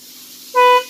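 A car horn blares once, briefly and loudly, as the steering wheel pad is pressed, after a moment of quiet hum.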